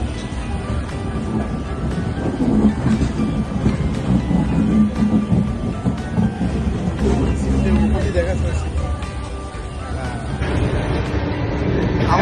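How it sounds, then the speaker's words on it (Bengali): A passenger train runs at high speed, its loud continuous rumble and clatter filling the carriage, with a faint murmur of passenger voices underneath. "দারুণ স্পিডে চলছে ট্রেন।"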